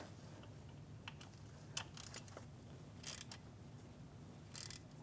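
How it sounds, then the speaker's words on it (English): A ratchet turns a 7mm socket to tighten a starter bolt on a 2016-2025 Chevrolet Malibu 1.5L L4. Quiet short bursts of rapid clicking come at irregular intervals over a low steady hum. "Now I'm going to take my 7mm socket"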